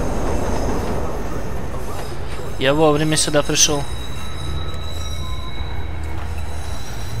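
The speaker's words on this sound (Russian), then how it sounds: "там еще и поезда ездят" Subway train rolling past in the video game Watch Dogs, a loud mid-clip burst of wheel squeal and rail noise over a steady rumble, with someone talking over it.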